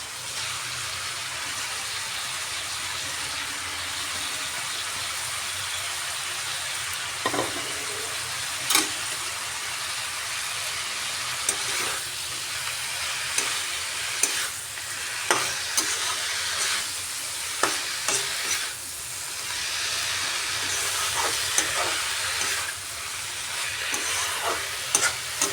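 Softened potatoes and bathua greens fry in a pan, giving a continuous hissing sizzle for a long stretch, broken by intermittent scrapes and knocks of stirring that grow more frequent midway.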